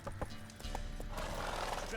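Roach, the horse in The Witcher 3, clip-clops and snorts in short hoofbeats, partly masked by game music and a voice talking over it.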